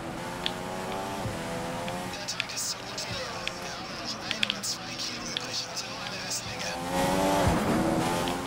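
F1 race car in F1 2015 heading into the pits during Chinese Grand Prix practice, engine note rising and falling with gear changes, close and loud, with a brief tyre squeal and a spoken voice over the top.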